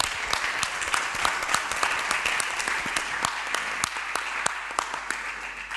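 An audience at a round-table discussion on reading promotion policy applauds, with steady, dense clapping sustained throughout at moderate, somewhat distant level.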